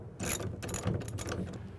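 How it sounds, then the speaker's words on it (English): A half inch socket wrench tightens the clamps on a Leer 100XQ truck cap, ratcheting in a quick run of close, crisp metallic clicks. "you're going to need a half inch socket as well as a half inch wrench to tighten these down"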